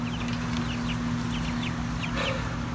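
Pet hens clucking in a backyard coop, a string of soft, close clucks and short chirpy calls over a steady low hum, with no talking.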